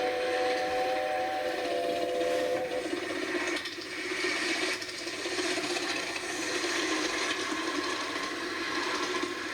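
A steady, musical steam locomotive whistle sounds for the first few seconds over a loud, rushing hiss and rumble that continues after it stops, on the Romney, Hythe and Dymchurch Railway.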